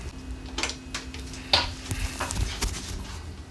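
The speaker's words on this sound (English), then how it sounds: "I'm gonna break this roux down by diluting it with a little bit of broth" Beef broth poured into a hot roux and whisked for a Louisiana-style Cajun shrimp and sausage dish: brisk whisk scraping against the pot with a faint sizzle and a sharp clink midway, close and steady, no talking.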